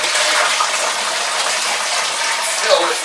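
Water runs steadily into a plastic homebrew fermenter being filled during equipment sanitising, a loud close gushing hiss that continues without a break throughout.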